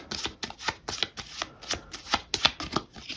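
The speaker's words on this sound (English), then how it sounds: "So we're going to collect up the cards, shuffle them all together here," Cards for the board game Wayfarers of the South Tigris are shuffled by hand, producing a quick, rhythmic series of crisp riffles and slaps, close and distinct with no talking.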